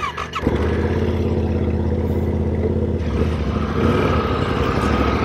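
A motorcycle sets off along the Trans Euro Trail in the Pyrenees. Its engine runs loud, close and steady throughout, with a brief shift in tone partway through as it rides on.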